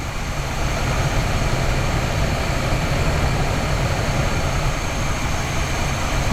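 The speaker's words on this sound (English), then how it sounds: "You can hear the idle change." A small-block Chevrolet V8 with an HEI distributor idles with a constant low rumble, running loud and close throughout, with no speech.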